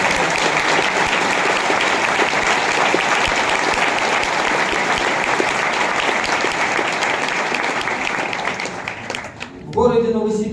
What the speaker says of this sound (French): Эти смелые товарищи заслуживают аплодисментов.